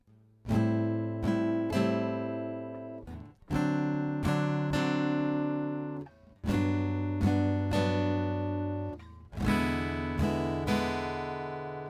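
Guitar strumming a swung rhythm in four-chord bursts, each strum ringing out with a long-and-short lilt before a brief pause, close and clear with no talking.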